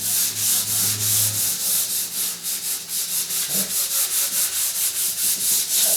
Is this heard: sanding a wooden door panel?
yes